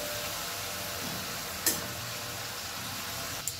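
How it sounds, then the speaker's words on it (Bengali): A spice masala sizzles and fries in a pan while being stirred, a soft, steady hiss close by with one sharp clink of a utensil against the pan midway and another near the end. "প্রায় 1 মিনিট ধরে নাড়াচাড়া করে মশলাটা কষিয়ে নিয়েছি"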